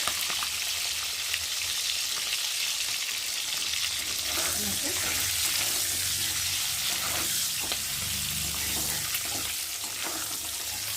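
Eggs fry in a pan with salt and turmeric, making a loud, close, unbroken sizzle with faint stirring scrapes and no voices.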